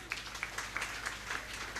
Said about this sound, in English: Please join me in giving him a warm round of applause.